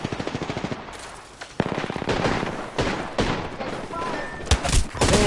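Rapid automatic gunfire in a shooter video game, with dense rattling bursts and sharp single shots fired close and loud, under overlapping voices of players talking.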